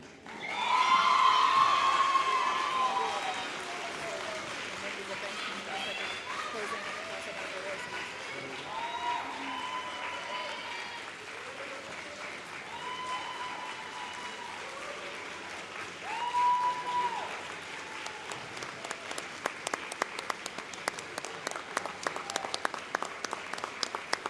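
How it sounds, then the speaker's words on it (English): Large audience applause at a class of 2025 graduation ceremony, a broad sustained wash of clapping with some cheering, swelling early and continuing steadily before turning into sharper, sparser claps. "A round of applause to the class of 2025."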